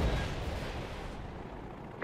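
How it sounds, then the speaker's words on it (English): Predator missile strike in Call of Duty: Modern Warfare 3, a dense, rumbling explosion with heavy low-end blast noise filling the whole short stretch at steady loudness. "Friendly Predator missile inbound."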